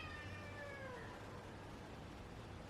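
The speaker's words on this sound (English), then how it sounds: "Please ignore my cat crying." House cat crying indoors, a faint drawn-out meow with falling pitch heard at a distance over a steady hissing background, with no talking.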